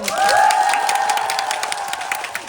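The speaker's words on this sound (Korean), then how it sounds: "박수 한번 크게" Audience in a cinema hall clapping and cheering for a film cast's stage greeting, a dense steady burst of applause with some shouts and a sustained high cheer over it, near and fairly loud throughout.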